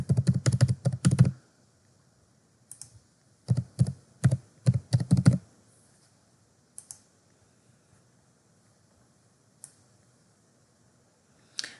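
Keys clatter on a computer keyboard during a login, in a dense burst at the start and a second run a few seconds later, then only a few isolated taps and clicks in near silence.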